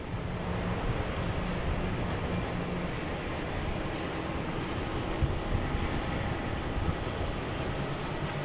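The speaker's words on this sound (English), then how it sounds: "that porter is taking off on 4 left" A Porter airliner takes off on runway 4 left at Boston Logan. A continuous broad engine roar stays at a moderate, even level throughout with no speech.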